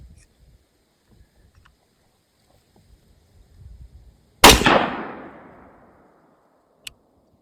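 A single loud 6.5 Grendel rifle shot into ballistic gel cracks sharply outdoors and trails off in a long rolling echo, followed by a small click and faint low rustling before.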